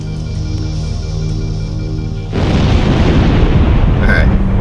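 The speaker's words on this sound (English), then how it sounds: "Wait for any fear rods to blow up." Fuel rod grenades explode in Halo CE on Legendary. A continuous game soundscape shifts abruptly halfway through into a loud, dense blast roar that sustains to the end, with a brief high burst near the close.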